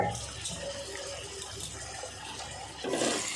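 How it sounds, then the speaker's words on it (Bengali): Hot water poured into a potato and cauliflower curry cooking in a pan, a steady close splashing pour with sizzle-like hiss throughout, swelling louder near the end. "এবার আমি গরম জল দেব।"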